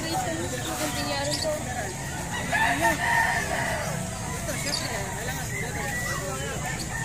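A bantam rooster crows amid outdoor bustle, the call standing out for a few seconds while people talk nearby.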